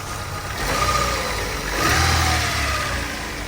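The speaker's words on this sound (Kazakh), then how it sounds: "Бирок мотор тунук иштеп турат, э?" The engine of a 2013 car with a 1.5-litre engine, at a car market, runs steadily close by, rising into two brief revs before settling back to a smooth idle.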